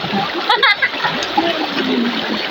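Water splashing in a shallow stream, with steady rushing flow and a few sharper splashes, while voices speak over it.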